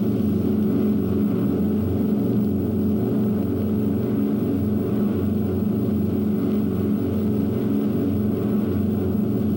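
The engines of the Memphis Belle bomber aircraft drone steadily in flight, a loud, unbroken low hum with no voices over it.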